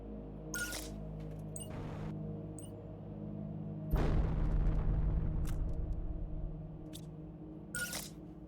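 Booming video-game bomb blasts, a first burst near the start and a bigger, longer rumbling explosion midway that decays over several seconds, with a few sharp clicks scattered around, loud and close with no talking.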